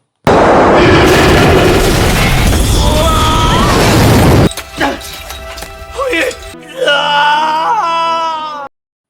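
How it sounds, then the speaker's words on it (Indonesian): A loud, sudden bomb blast fills the first seconds with a roaring burst of noise, then cuts off to strained cries and a wailing voice. "bom pun meledak"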